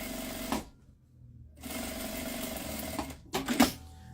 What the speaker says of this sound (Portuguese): frente com frente, alinha bem o material aqui e passa a costura de segurança.